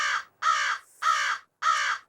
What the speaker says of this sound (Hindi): ये तो सच में कौवा कां कर रहा है।